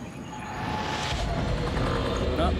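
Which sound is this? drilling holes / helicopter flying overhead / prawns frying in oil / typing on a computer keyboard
helicopter flying overhead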